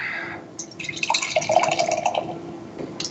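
A brownish, opaque 7.7% ABV beer pours from a can into a glass, a short run of gurgling, splashing liquid that swells and fades over about three seconds, close and alone.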